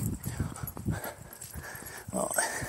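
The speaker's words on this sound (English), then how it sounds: "Oh, here's a dog." An old dog makes soft snuffling, whimpering noises and patters nearby outdoors, close and moderately loud, with faint background sounds around it.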